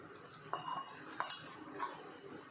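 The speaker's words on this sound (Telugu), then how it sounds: "వేసి బాగా కలుపుతున్నానండి" A spoon scraping and clinking against a pot while ragi flour mixture is stirred in, a few sharp metallic taps and soft scrapes, quiet and close.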